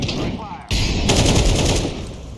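Gunfire in Counter-Strike 2: loud, close bursts of rapid automatic shots that start abruptly and continue steadily, with faint background sounds from the match.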